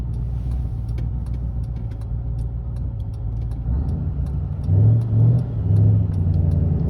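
Interior recording of a supercharged Ford Crown Victoria with a five-speed manual pulling in first gear: a low engine rumble that idles, then swells into a louder revving surge in the later seconds.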